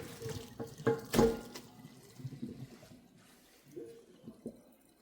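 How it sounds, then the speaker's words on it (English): Water drains and splashes in a sink as soaked salted fish is strained for Guyanese bake and saltfish. There are a few louder pours and trickles near the start, then quieter dribbles and clinks at close range. "So now I'm gonna strain this out, and then we're gonna take it from there."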